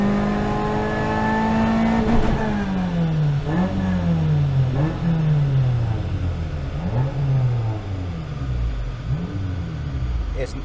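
A Suzuki Ignis Sport roars flat out on a rolling road, its engine note climbing in long sweeps with sharp throttle blips in between. The sound is loud and continuous, with a voice talking over it.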